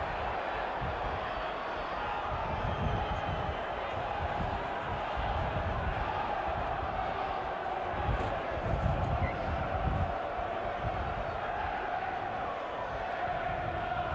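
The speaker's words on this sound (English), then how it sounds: "Crowd groan." A rugby league cup final crowd lets out a broad, sustained groan across the stadium, a dense low rumble of many voices that swells and eases without any single voice standing out.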